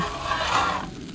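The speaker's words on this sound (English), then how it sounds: "scrape, scrape, scrape" A metal spatula scrapes across a hot Blackstone griddle in one close rasping stroke that swells and then fades.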